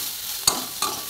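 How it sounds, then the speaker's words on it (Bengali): Food seasoned with salt and turmeric fries in a pan in a hot home kitchen, a steady sizzle broken by two quick scraping stirs. "এবার এটা ভালোভাবে ভাজা হয়ে যাবে।"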